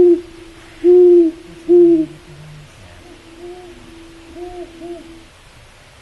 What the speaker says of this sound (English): Here's 3 different great horned owl recordings.